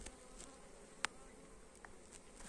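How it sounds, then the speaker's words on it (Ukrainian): Honeybees buzz softly at a hive as they carry in hazel pollen, a faint steady hum with a few brief louder passes of single bees close by. "бджола носить пилок, значить з розплодом все гарно"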